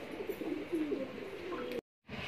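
Soft, low pigeon cooing repeats a few times close by over quiet background noise, then cuts off abruptly.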